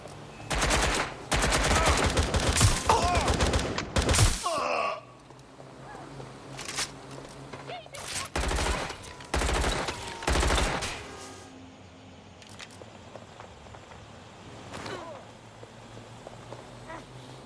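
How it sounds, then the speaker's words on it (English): Bursts of automatic gunfire in Watch Dogs Legion, loud rapid volleys in several clusters with gaps between, and voices calling out at times. "Shots fired!"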